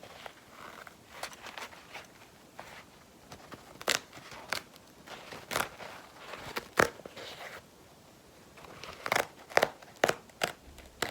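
Scissors snip through toilet paper in a quiet close-up setting, a run of crisp irregular cuts and crinkles, some sharper and louder, with a denser burst of snips near the end.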